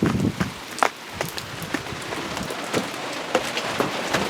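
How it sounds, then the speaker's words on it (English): Rain falling during a thunderstorm in Larned, a steady close patter on surfaces with scattered louder drops hitting nearby, moderate in level, no voices. "as the rain begins to pick back up"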